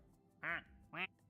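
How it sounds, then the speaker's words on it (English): Two short nasal duck quacks from the Samurai Spirit video game, about half a second apart, clear over a quiet background. "And that's what your duck sounds like."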